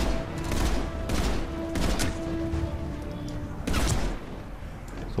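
Rapid bursts of gunfire from a weapon in the video game Mass Effect 3, several loud volleys spread across the clip with short pauses between them and a steady hum of game noise underneath.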